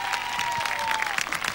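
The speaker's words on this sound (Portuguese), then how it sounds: "um aplauso para Pedro Madeira!" A brief burst of applause from a small audience, quick scattered clapping.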